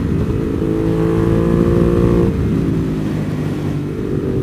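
A 2020 Ducati Monster 821 Stealth motorcycle engine runs loud and close during a ride, holding a steady revving note, easing off briefly midway and then picking back up, with no talking.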